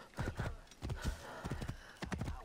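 Horse hooves clip-clop in a steady trotting rhythm in Assassin's Creed Origins, close and fairly quiet, with no voices.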